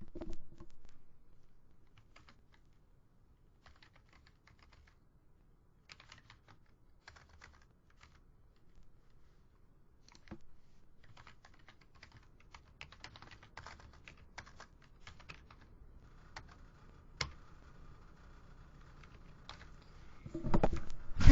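Typing on a computer keyboard while editing a WordPress site, with quiet, close, irregular key clicks in scattered bursts and pauses and no one speaking.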